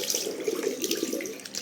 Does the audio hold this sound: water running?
yes